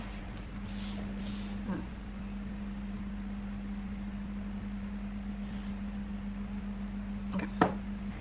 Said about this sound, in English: I'm gonna see if I can get some even spray